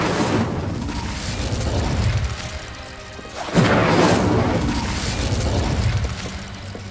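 An Incendio fire spell is cast in Hogwarts Legacy: two loud, whooshing bursts of flame, one at the start and one midway, each settling into a rumbling roar that fills the space around it.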